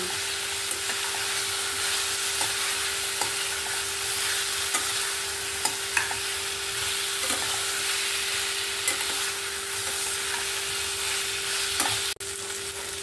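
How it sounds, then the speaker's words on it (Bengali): Potato and cauliflower pieces sautéing with spices in a pan, a constant close sizzle with occasional scraping and clinking stirs, and a faint steady hum beneath, no talking. "আমি মশলার সঙ্গে আলু ফুলকপিটাকে এক মিনিটের মতন কষিয়ে নেব"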